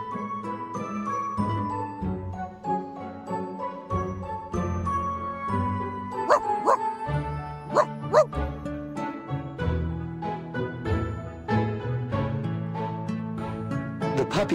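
A puppy in the video game Reverse: 1999 gives short yips and barks over a busy backdrop of game music and chiming jingles, with voices heard along the way.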